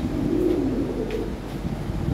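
A new adult pair of lavender Lahori pigeons gives soft, low cooing, a brief throaty murmur heard close by.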